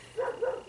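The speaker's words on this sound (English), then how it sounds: "Sorry about my dogs barking outside." Pet dogs bark outside a house, three quick, fairly loud yaps in a short burst with nothing else in the foreground.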